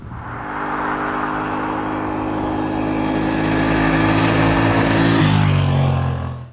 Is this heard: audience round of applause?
no